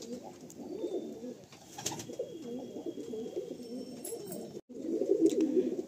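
Pigeons in a loft coo in repeated low, throaty rolls, close and continuous, with a brief break near the end before another burst of cooing.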